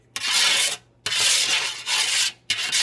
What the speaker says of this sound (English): I take my flipper and I just spread that olive oil around.